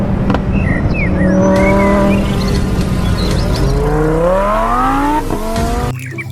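Toy race car, orange, with a strong revving racing-car engine and tire-squeal sound rising and falling in pitch, loud and continuous throughout, ending abruptly near the close.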